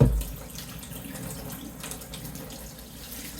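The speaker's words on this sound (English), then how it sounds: "So let me wash the egg off my hand." Water runs steadily from a kitchen tap while egg is washed off hands, a close, continuous splashing stream following a brief louder burst at the start.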